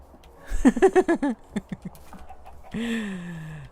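A creaky, hinge-like bird call in a prehistoric video game, heard as a quick run of clucking notes followed by a longer drawn-out squeal, close and fairly loud with no talk over it.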